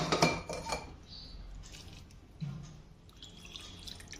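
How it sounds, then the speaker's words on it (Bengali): Soaked potato being squeezed out of water by hand in a home kitchen, a few soft wet squishes and drips with faint clinks of a bowl, quiet and close. "এখন জল থেকে আমি আলুটা ভালো করে চিপে চিপে উঠিয়ে নেব।"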